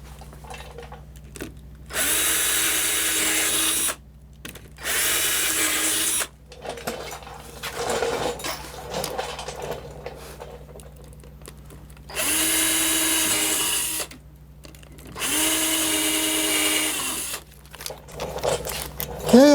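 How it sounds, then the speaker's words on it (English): A power drill pre-drills holes in a model railway layout, running in several separate high-pitched whirring bursts of about two seconds each, with quieter handling sounds in the pauses. "I've pre-drilled the holes."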